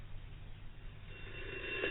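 Telephone bell ringing in an audio comedy about frantic phone dialling, a faint, thin ring rising toward the end of a brief, quiet stretch.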